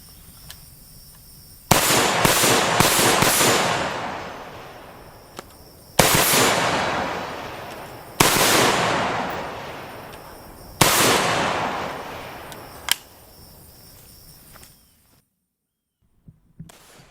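A CZ 805 Bren short-barreled rifle with an 11-inch barrel fires four loud, close bursts outdoors, each a sharp crack that rings out into a long fading echo, with a faint extra pop near the end.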